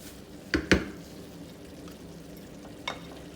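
Prawns go into a pan of red oil potato greens, setting off a steady background sizzle of frying with a couple of sharp clatters and splashes near the start and another later, with no voices.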